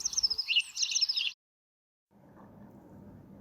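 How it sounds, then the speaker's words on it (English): A house sparrow chirps in a short burst of bright, rapid chirps that stops abruptly. A quiet stretch follows, then a low murmur of background noise. "Peter is a house sparrow."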